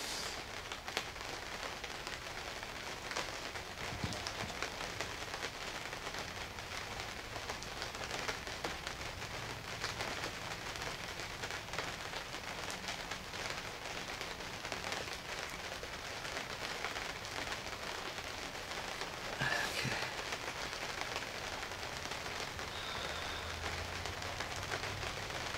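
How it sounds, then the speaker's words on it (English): Rain falling outside, a steady broadband patter of drops on surfaces that holds at an even, moderate level for the whole stretch, with no voices over it. "Starting to rain outside. I don't know if you could hear that."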